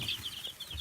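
One-week-old Copper Maran chicks peep in a rapid, regular run of high, thin chirps, about six in under a second, heard close up against faint low background rumble.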